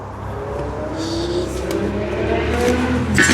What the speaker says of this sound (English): Some motorbikes going past there, you probably hear them.